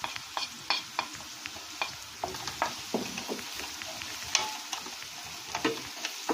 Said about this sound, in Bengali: মশলাটা দিয়ে একটু ভাজা ভাজা করে নিলাম।